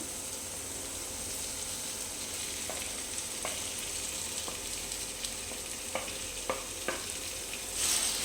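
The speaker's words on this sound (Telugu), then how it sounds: "ఇప్పుడు మనం కట్ చేసుకొని పెట్టుకున్న టమాటా కూడా వేసేసుకుందాం" Chopped tomatoes go into a frying pan with eggs and spring onion, raising a steady sizzle and fry that runs throughout. A few light clicks of stirring come through, and no one speaks.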